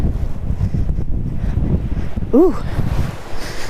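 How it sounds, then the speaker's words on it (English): Steady gusting wind buffets the microphone at an abandoned rural airport, a low continuous rumble with a short vocal exclamation partway through. "It is a windy day today, guys."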